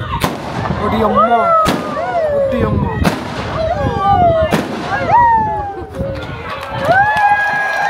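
Several sharp, loud gunshots from a gold-rush era firing demonstration at Sovereign Hill, Ballarat, Australia, crack at irregular intervals, echoing nearby, while people shout and talk excitedly between the blasts.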